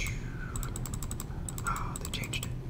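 A computer mouse double-click during CNC plaque design work in VCarve 12, heard as quick light clicks in small bursts, faint and close against a low steady hum.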